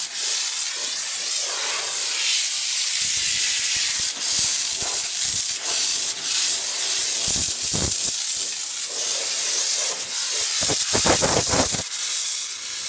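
Steam hisses loudly and continuously from the hose of a Chief Steamer 100 PSI steam cleaner, with sputtering bursts and pops as condensed water spits out partway through.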